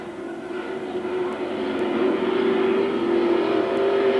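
Dirt track super stock race cars racing at Magic City Speedway in Billings, Montana, with a steady loud engine drone that swells slightly as the field passes, heard alone without commentary.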